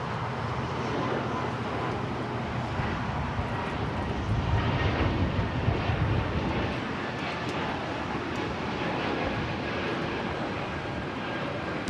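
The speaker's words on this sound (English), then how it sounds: "That was Air Canada 776 taking off to Montreal on the A220-300." An Air Canada Airbus A220-300 takes off from LAX bound for Montreal, its engines a broad, steady roar that swells in the middle of the run and holds loud and fairly close to the end.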